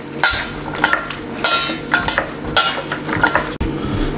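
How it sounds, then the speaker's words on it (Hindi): Eggs are stirred by hand into a bowl of cut potatoes for crispy egg French fries, dhaba style, giving a run of clattering, scraping knocks against the bowl in an uneven rhythm, close and fairly loud, with no talking. "अच्छे तरीके से अंडे मिक्स करने इसके अंदर"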